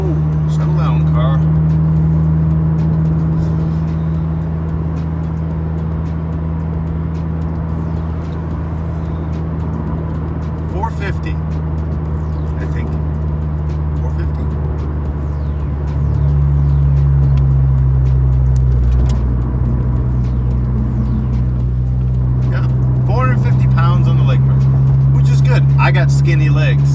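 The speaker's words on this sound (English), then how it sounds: "whoa, settle down, car." A car passes close by on the road, its loud engine rumble running steadily and swelling louder partway through.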